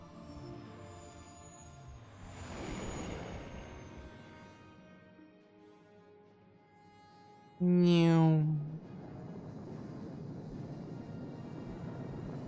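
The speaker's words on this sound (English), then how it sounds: "Hyperspace jump." A hyperspace jump in Star Wars: Knights of the Old Republic: a loud, rising harmonic whoosh that surges for about a second after a softer engine drone, with a steady rumble continuing afterward.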